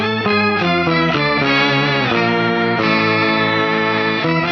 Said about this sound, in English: I believe here you're getting potentially 3 octaves. So that's +1, +2, and -1